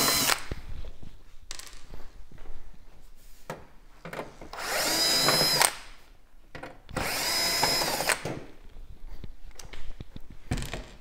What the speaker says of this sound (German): Da habe ich solche Torx T20-Schrauben und die müssen alle raus.